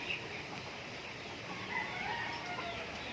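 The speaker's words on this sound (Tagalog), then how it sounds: "ayan yung mga alaga namin mga panabong yan mga tol" Fighting gamecocks clucking and crowing from their cage, a dense flurry of rooster calls overlapping close by with steady background farm noise and no talk.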